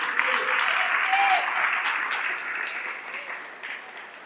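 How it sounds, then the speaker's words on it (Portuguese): Church congregation clapping for Jesus during a sermon, a dense sustained applause that slowly fades toward the end, with scattered shouts within it. "Quem pode aplaudir a Jesus?"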